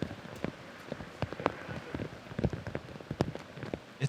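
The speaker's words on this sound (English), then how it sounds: "It's not raining any less." Rain patters steadily at a disc golf tournament, with scattered distinct drops striking close by over a faint, continuous wash of rainfall.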